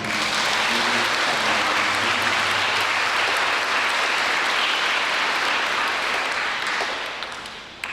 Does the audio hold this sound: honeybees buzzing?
no